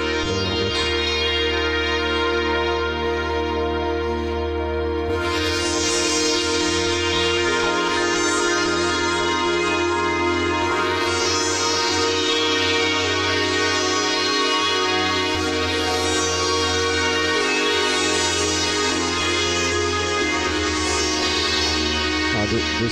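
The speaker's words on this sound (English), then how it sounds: "so just a factory patch of the Korg C1." Korg synthesizer playing factory patch B70 Z World, a single-layer sound with sustained dense chords and a rich buzzing tone that shifts every few seconds, loud and continuous with no talking.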